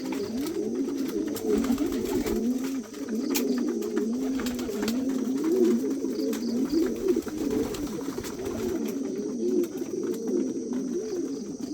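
Pigeons coo steadily while feeding, making a continuous, overlapping low cooing from several birds nearby, with faint chirps above it and no talk.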